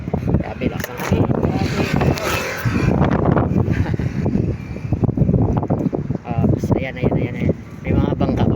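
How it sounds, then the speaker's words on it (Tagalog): Strong wind at Manila Bay buffeting the microphone beside a river with boats, a loud continuous rumbling roar with gusty surges that runs through the whole clip while someone talks over it. "Grabe lakas ang hangin."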